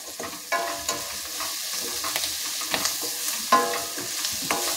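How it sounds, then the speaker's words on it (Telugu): Curry leaves and spices with turmeric and salt stirred in a frying pan, a steady sizzle with repeated clinks and scrapes of the spoon, close and continuous with no talking. "కొంచెం పచ్చివాసన పోయేదాకా మనం ఇలా తిప్పుకోవాలి"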